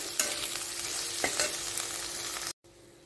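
Finely chopped potatoes stirred in a hot pan with oil for cheese vada pav filling, a soft continuous sizzle punctuated by a few scraping stirs, cutting out abruptly near the end.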